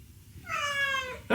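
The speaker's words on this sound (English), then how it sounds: "she comes and meows at me because she wants crunchies" A cat meows for food indoors with one clear, drawn-out meow close by, ending as another sharp sound cuts in.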